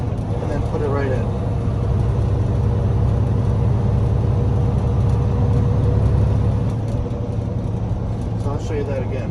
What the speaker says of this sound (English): we're going to pull it out of gear into neutral, and we're going to accelerate up to 15, and then put it right in